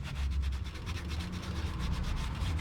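Razor blade scraping old, hardened sealant off an oil pan flange on a Lexus LS430 engine, giving a steady, close, repetitive rasping scrape with rhythmic strokes and no talking.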